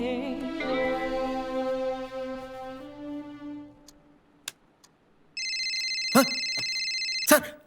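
A mobile phone rings in a film scene, its electronic ringtone entering after a stretch of background music and repeating loud and steady for a couple of seconds, with faint sounds around it.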